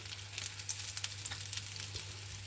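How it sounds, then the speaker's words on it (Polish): Breaded chicken tenderloins fry in a pan with a steady, close crackling sizzle full of small pops, continuous and fairly quiet, with no talking. "będziemy je tutaj smażyć"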